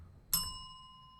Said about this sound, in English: every time you hear that bell